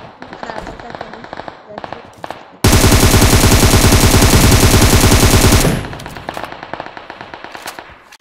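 Sustained automatic fire from an M762 rifle in PUBG Mobile, a loud rapid unbroken burst of about three seconds, with quieter scattered game sounds before and after.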